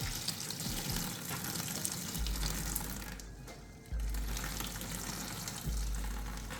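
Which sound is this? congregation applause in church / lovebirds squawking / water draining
water draining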